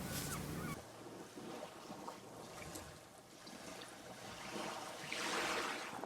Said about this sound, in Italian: rumori strani di uccelli, versi strani di uccelli che arrivano da quel boschetto alla nostra destra là